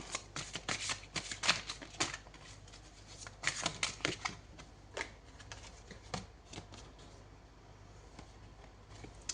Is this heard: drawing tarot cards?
yes